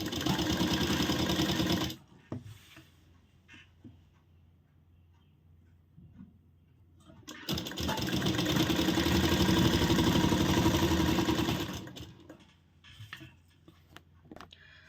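A sewing machine stitches folded blouse fabric in two bursts, a loud steady whirr running for about two seconds and then again for about four, with quiet handling and fabric rustle in the pause between.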